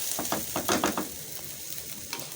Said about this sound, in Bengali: পোলাওর চালটা একেবারে ভাজা হয়ে গেছে দেখতে পাচ্ছেন একদম ঝরঝর